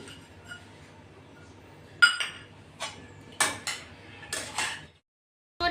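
A spoon mixing fresh coriander into poha in a metal pan over a low flame, producing scattered close metallic clinks and scrapes separated by short pauses, then brief silence.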